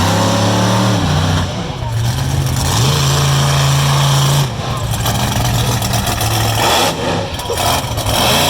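Tough Enough monster truck engine with a rod knock, a loud rough idle that rises and falls in revs, with an announcer talking over it at an arena dirt event.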